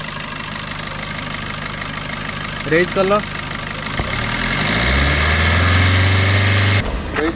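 A Maruti Vitara Brezza ZDi idles at a used-car dealership with a steady, smooth engine hum. A rising tone joins midway as if the revs climb, and a person talks over it throughout.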